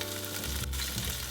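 Seasoned shrimp hitting a hot pan over medium-high heat, a dense close sizzle that swells as they land and keeps frying steadily.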